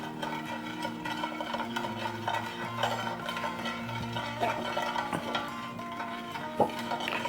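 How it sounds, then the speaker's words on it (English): A spatula stirs lemon juice into melted butter in a pan for a cereal party mix sauce, giving steady scraping and light metallic clinks with a few sharper knocks, no talking. "Then I'm going to take a spatula and give that a good stir in to"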